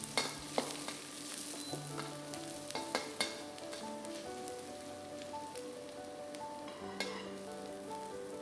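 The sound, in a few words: ginger and garlic stir-frying in hot oil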